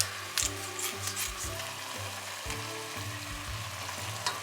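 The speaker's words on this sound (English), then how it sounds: "And then I just kind of break it up so it starts cooking down in there" Ground beef cooking in a pot while being broken up, a steady close sizzle with occasional scraping and clunking of a utensil against the pot.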